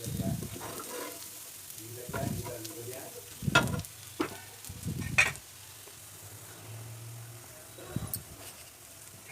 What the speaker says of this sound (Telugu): మళ్ళీ ఇంకో దోశ వేసుకుందాం